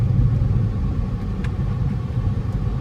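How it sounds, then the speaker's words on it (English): A 2020 Toyota Corolla XSE drives with a steady low engine rumble and road noise from inside the cabin during a paddle-shift downshift, with no clear rev change. "Oh, okay, I downshift the paddle shifter."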